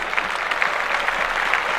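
Steady applause from a crowd, many hands clapping continuously at moderate loudness with no voices.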